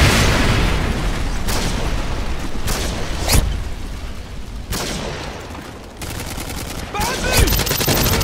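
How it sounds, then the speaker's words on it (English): Rapid machine pistol fire in Modern Warfare 2 multiplayer, heard as several sharp bursts and single shots spread over the stretch. The shots ring loud and close, with some booms among them. "This is also the best machine pistol in the game."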